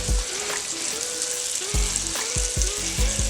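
Split smoked sausages sizzle and fry steadily in a hot pan, with a few sharp knocks and scrapes of a utensil against the metal near the end.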